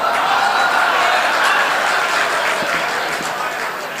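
Audience applause at a mushaira poetry gathering in Bulandshahr, a steady crowd of clapping hands with murmuring voices mixed in, easing slightly toward the end.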